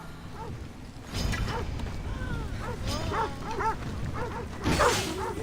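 Dogs barking in the ancient Athens setting of Assassin's Creed Odyssey, several yips and barks scattered over a few seconds at moderate distance, mixed with game ambience and a brief swish.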